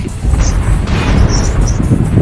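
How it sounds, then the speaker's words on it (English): A mech in MechWarrior Online is destroyed by an exploding ammo store, a dense rumbling blast that carries on for about two seconds with scattered bright crackles on top. "I died to ammo explosion."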